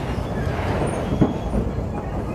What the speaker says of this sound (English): Having hurriedly hopped onto the train to Waterfall Station